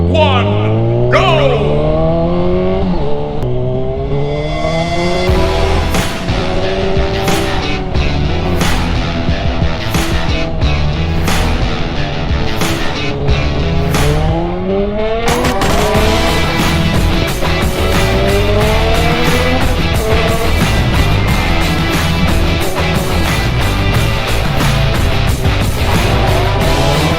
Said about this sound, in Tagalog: Ayan, dami sasakyan.